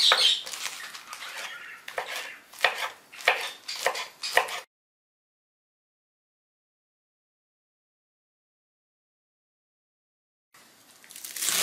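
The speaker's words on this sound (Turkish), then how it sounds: "Yaprak kısımlarından doğrayalım." A knife chops freshly washed spinach leaves on a board in a quick run of crisp, close taps, then stops and goes silent before the chopping starts again near the end.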